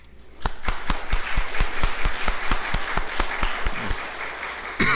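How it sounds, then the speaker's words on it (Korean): A church congregation at a Sunday service claps to welcome newcomers standing in the pews, with steady, dense applause that runs throughout and includes a few sharp, regular louder claps close by. "자리에서 일어나시면 박수로 환영하겠습니다."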